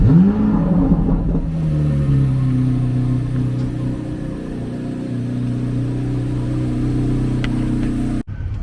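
Chevrolet Corvette C8 Z06 engine, stock, fires up with a sharp rising burst then settles into a loud, steady rumbling idle with slight revs, close by and alone, before cutting off abruptly near the end.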